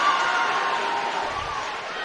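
Crowd noise fills a high school gym during a volleyball match between South Medford and North Medford, a dense steady roar of cheering that eases slightly toward the end.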